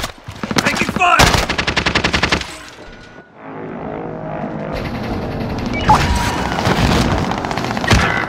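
Gunfire in the video game Call of Duty: Modern Warfare, with loud rapid automatic bursts up close, then quieter scattered shots and distant firing mixed with explosions and game ambience.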